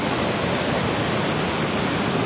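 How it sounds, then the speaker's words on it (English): A swollen river rushes after a typhoon on a farm in the Philippines, a dense, steady, loud roar of churning water filling the whole clip with no voices. "The river down here"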